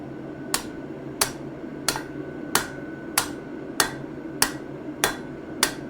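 Hammer striking metal on an anvil, nine sharp ringing blows at an even, unhurried rhythm about one every 0.65 seconds, close and loud with short metallic decay between strikes.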